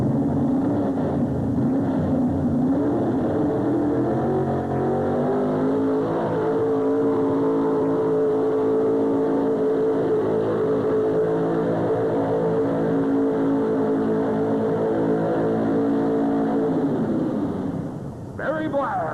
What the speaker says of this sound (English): trying to get the engine to come up in RPM for him